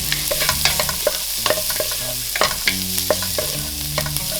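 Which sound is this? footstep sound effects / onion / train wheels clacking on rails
onion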